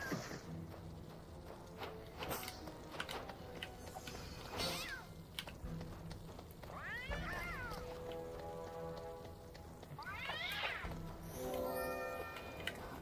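A cat meows twice in the video game Sphinx and the Cursed Mummy, with drawn-out, clear calls rising over a busy bed of game music and effects.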